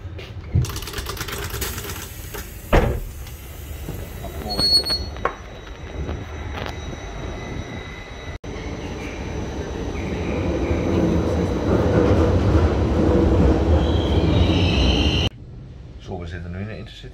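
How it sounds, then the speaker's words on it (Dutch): A Dutch SGMm train rumbles and rolls into Almere Centrum station, its low mechanical roar swelling and then cutting off, with brief talk and clanks early on. "we komen nu aan op het eindpunt van deze trein"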